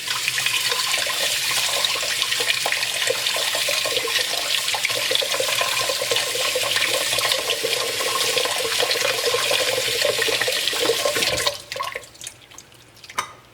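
Cold tap water runs steadily over cooked boba pearls in a kitchen sink, a loud continuous rushing splash that cuts off near the end, leaving a few drips and faint clatter.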